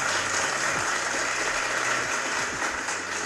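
Applause from a sound effect played on a live coding stream: a constant, crowded burst of clapping that lasts the whole few seconds, with a low rumbling hum underneath and no one speaking.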